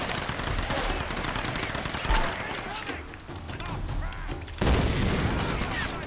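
Heavy gunfire from a gun in Tomb Raider 2013, with repeated loud bursts and booming hits under a voice.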